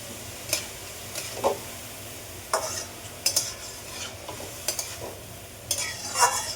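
Bottle gourd curry cooked with snakehead fish head, a Bengali lau ghonto, stirred in a pan: a soft steady sizzle with about half a dozen scraping spoon strokes at irregular intervals, close by, with no talking.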